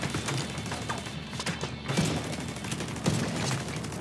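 A turret in the Tom Clancy's The Division 2 video game fires rapid bursts of gunfire, a dense crackling fusillade with a few heavier thumps, moderately loud and continuous over several seconds without speech.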